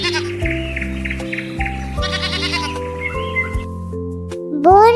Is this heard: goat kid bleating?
yes